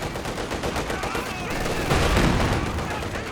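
Machine gun fire in the video game Company of Heroes 2 rattles in quick repeated bursts amid battlefield noise, swelling louder near the end, with a voice talking over part of it.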